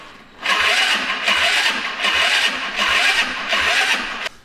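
An enduro scooter's engine cranks on its electric starter in a repeated, slightly sluggish rhythm of about five pulsing surges, close and loud, without firing up.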